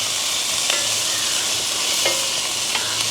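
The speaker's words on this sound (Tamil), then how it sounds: "வெங்காயம் பச்சை மிளகாய் வதங்கட்டுருவோம்." Onion, green chilli and curry leaves sautéing in a pan, a steady hiss of frying oil with a few scraping stirs of a spoon at intervals.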